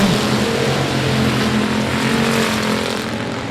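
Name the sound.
race cars racing at I-37 Speedway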